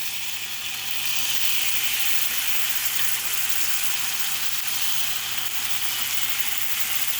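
Chur chut batter sizzling on a hot tawa, a steady close hiss of frying that holds evenly throughout with no speech.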